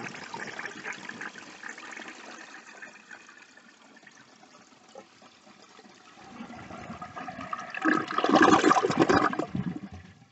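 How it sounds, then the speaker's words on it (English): A 1957 Standard Cadet toilet fitted with a tilt valve flushes, starting with a steady low rush of water and building to a louder, gurgling surge near the end before trickling off, close by. "let's see if there's any difference in the flush with the tilt valve"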